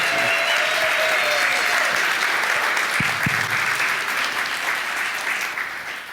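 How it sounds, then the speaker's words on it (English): Loud, dense applause from a seminar audience on their feet for a tax-planning speaker, sustained and steady before easing slightly at the end. "So on your feet, and a big round of applause for the amazing John Hyre"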